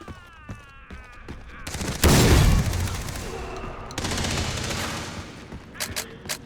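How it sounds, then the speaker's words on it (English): A grenade blast and rapid gunfire in the video game Far Cry 3 during an online multiplayer match: a few sharp shots, then a loud sustained roar of explosions and overlapping automatic fire, trailing into scattered pops. "Have a grenade, assholes!"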